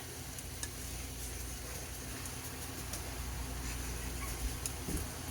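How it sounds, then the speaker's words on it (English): Chopped Milanese steak fries in a pan for a cowboy steak sandwich, a steady close sizzle with faint crackles and occasional stirring scrapes throughout. "we're going to add that in, and we're going to cook it until there's no more pink"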